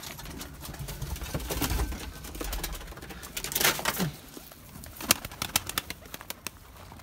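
Young pigeons coo softly and take off from a loft, with bursts of flapping wings mid-way and in quick flurries near the end over a low, steady background.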